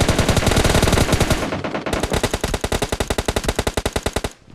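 Rapid automatic gunfire in the video game PUBG Lite, loud dense bursts that pause briefly and then resume as a steady rhythmic stream of shots, with no talk.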